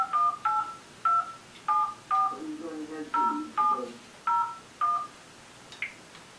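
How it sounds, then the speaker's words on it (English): A touch-tone phone dials a number as a quick run of about ten short paired beeps, each clear and close. A voice murmurs briefly in the middle, and the dialing stops near the end. "I would just dial it."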